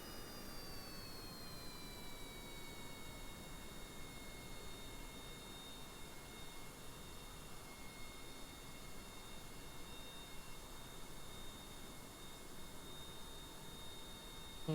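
A steady, broadband roar of a rocket engine running in Kerbal Space Program, with a faint high whine that slides slightly, continuous and even throughout, with no talk over it.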